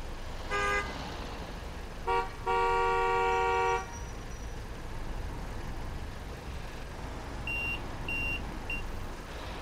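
Train horn in the Train Sim World 4 video game: a short blast, a brief toot, then a longer sustained horn, followed later by faint repeated beeps over low engine rumble.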